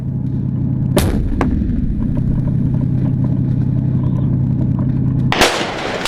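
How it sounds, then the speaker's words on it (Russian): A tank main gun firing an armour-piercing round during an urban assault, heard as two heavy blasts several seconds apart over a constant low engine drone, the second one louder and closer. "Бронебойным выстрелом сносится пальма, и снаряд отправляется адресатом"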